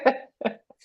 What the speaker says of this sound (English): Sorry, my cough, it's fine.